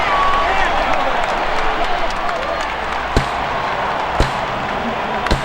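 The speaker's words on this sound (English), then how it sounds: "he's getting some encouragement here from the crowd" Steady crowd murmur and cheering from a baseball video game, MLB 2K5, in an Astros versus Pirates matchup, running as a continuous broad wash with a few sharp bat-like knocks near the end.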